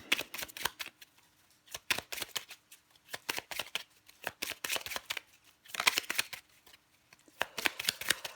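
Tarot cards being shuffled, drawn and handled in quick papery riffles and flicks, arriving in several close bursts separated by short pauses, fairly close and moderately loud.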